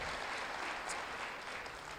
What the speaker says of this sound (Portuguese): Você pode aplaudir do Senhor Jesus mais uma vez?